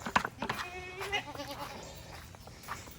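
Several goats bleat in a pasture while being called over for a corn treat, a handful of nasal cries near the mic in the first second or so, fading into quieter rustling and background noise.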